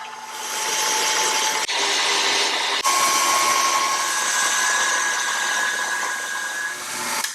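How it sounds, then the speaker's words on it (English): Stand mixer with a whisk attachment whipping cream to stiff peaks, a steady loud whirring motor drone with brief dips as speed shifts, running alone with no voices. "I'm going to be using a stand mixer today, but you could also use a hand mixer."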